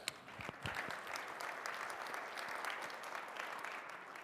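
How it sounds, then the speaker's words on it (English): An audience at a developer event claps steadily, a dense wash of applause that stays even throughout with no voices over it. "you can clap for that"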